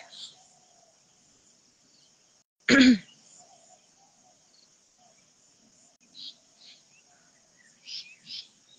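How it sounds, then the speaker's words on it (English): A little bird gives a few faint, brief high chirps in a quiet morning grass field beside a village school, over a steady insect-like whine, with one sharp loud thump early on. "A little bird fly on the sky"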